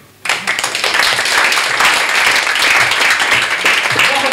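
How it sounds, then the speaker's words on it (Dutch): Warm audience applause bursts out abruptly at a poetry slam in Leeszaal West, Rotterdam, then holds as a dense, even wash of many clapping hands. "Ik heb nog een heel warm applaus voor Nathalie."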